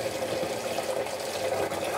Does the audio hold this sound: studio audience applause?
no